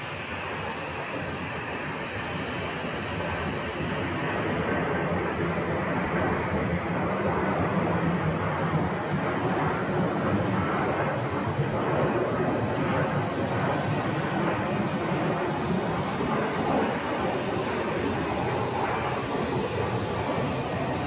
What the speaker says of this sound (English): there's the heavy 767 that they're talking about, landing on a parallel, landing on 25 left.